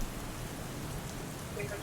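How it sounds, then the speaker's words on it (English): Rain falls steadily in a tabletop fantasy adventure scene, a soft even hiss at low volume with a faint low rumble underneath, continuous throughout with no clear voices. "Perhaps we can beat this rain."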